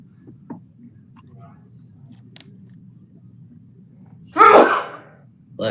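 A single sharp sneeze bursts out near the end, loud and close, after a stretch of quiet room tone and faint murmuring at a tabletop game session.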